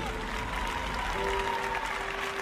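Steady applause from a theatre audience at a dance performance fills the hall continuously, moderately distant and even, with no speech over it.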